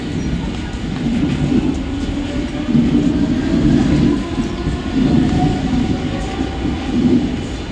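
A Mumbai suburban local train rumbles and hums heavily at platform 3, low, steady mechanical noise and faint wheel sounds, as at a busy platform.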